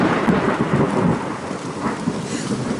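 Heavy rain pours at a bushcraft camp while thunder rumbles, a loud, dense wash with rolling low booms and no voices.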